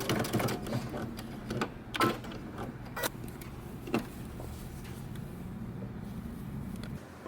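A sewing machine backstitches the end of a shirt seam on a men's button-up, its motor running in a steady whir through most of the clip, broken by a few short, sharp clicks and bumps, fairly close and moderately quiet.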